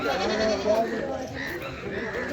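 Goats bleat at a small weekly livestock market in Latur, with wavering cries rising over a murmur of people talking in the background.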